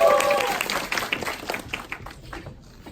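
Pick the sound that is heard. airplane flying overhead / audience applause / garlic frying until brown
audience applause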